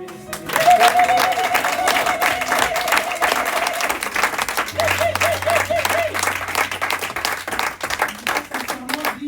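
Youth conference audience applauding and cheering loudly throughout, dense clapping with crowd voices and a sustained tone underneath, near and full.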